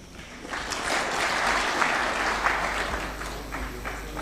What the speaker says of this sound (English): a round of applause for His Excellency one more time